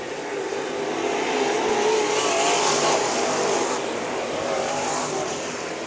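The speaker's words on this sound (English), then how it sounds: "Final lap of heat race number 3 for the IMCA Modifieds." IMCA Modified race cars roar around a dirt track on the final lap of a heat race at a night event, a dense, loud, continuous engine drone from a pack of cars swelling slightly as they pass.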